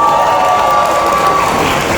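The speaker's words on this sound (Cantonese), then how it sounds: "俾掌聲。" An audience at a meet-and-greet for singing contestants gives loud, sustained applause mixed with cheering, dense and close for the whole stretch.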